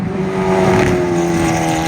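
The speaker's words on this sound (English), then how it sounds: "And here's the Hondaghini rolling through." The Hondaghini race car rolls past at trackside during a 12-hour endurance race in Thailand, its engine a sustained, fairly close tone that swells and holds briefly.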